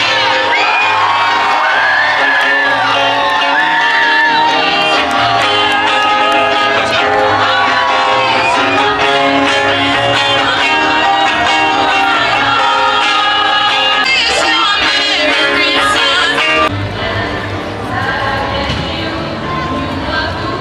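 At the Tirana Christmas lights ceremony, a large outdoor crowd cheers, whoops and shouts over loud festive music, with applause building throughout before the noise drops slightly near the end.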